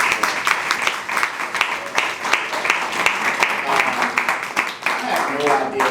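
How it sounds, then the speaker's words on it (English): Audience applause for poets at a spoken word showcase, a full crowd clapping steadily and loudly with cheers mixed in, a voice emerging briefly near the end. "Clap it up for all our poets."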